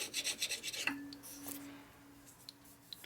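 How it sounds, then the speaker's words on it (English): A scraper rasps across the base of an S&S cylinder during a rebuild of a 2001 Gilroy Indian Chief race bike. A quick burst of scraping strokes comes up close, then a faint ringing metallic tone and light clinks follow. "I didn't scrape this cylinder off like I should have. Drop it a little bit. Super scraper here."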